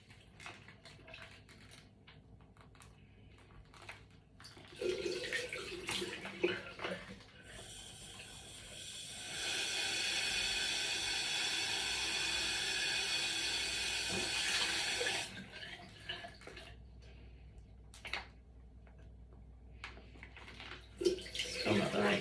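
Tap water runs steadily into an irrigation bag for a Peristeen cone irrigation setup, a loud broad hiss lasting about eight seconds, with quieter handling and trickling before and after.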